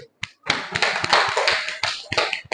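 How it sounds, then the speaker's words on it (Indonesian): A fifth-grade classroom claps for a student group, a short tap, a brief pause, then a dense run of quick hand claps that stays fairly steady and close before breaking off near the end. "Silakan kelompok 3, kita beri tepuk tangan dulu"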